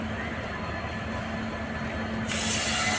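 A train pulls into Guwahati railway station with a steady rumble and a faint steady hum, growing louder and hissier near the end, with crowd murmur in the background.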